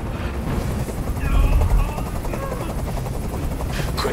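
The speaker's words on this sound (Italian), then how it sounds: "Digli di mandare via quell'elicottero!" A helicopter in the video game Detroit: Become Human throbs loudly and continuously with rapid rotor chopping and a deep rumble that swells midway, with voices talking over it.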